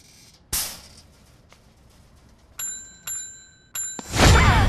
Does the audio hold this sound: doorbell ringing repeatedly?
yes